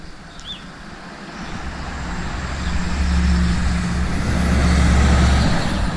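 A car pulling away from a yard near a Fordson E1A Major tractor, its low engine rumble building steadily and staying fairly close, with no talk over it.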